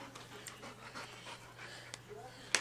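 A puppy pants softly while chewing on a rug indoors, quick faint breaths with light gnawing and rustle, ending with a brief sharper sound.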